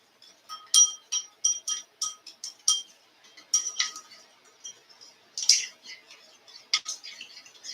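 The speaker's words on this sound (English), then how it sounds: "I'm going to stir that together." A spoon stirs a sofrito-based sauce or marinade in a bowl, striking the sides in quick, bright clinks that come in irregular bursts, close up in an otherwise quiet room.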